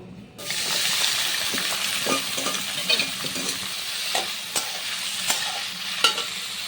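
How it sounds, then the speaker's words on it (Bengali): Beans, capsicum and carrot, half-boiled beforehand, fry in white oil in a wok for fried rice, with a steady loud sizzle and repeated sharp scrapes and clinks of stirring. "কড়াইতে সাদা তেল বসিয়ে দিয়েছি ফ্রায়েড রাইসের জন্য সেদ্ধ করে নেওয়া বিনস ক্যাপসিকাম গাজর আমি ফিফটি পার্সেন্ট মতো সেদ্ধ করে রেখেছিলাম আর ওটাকে আমি এখন ফ্রাই করে নেব"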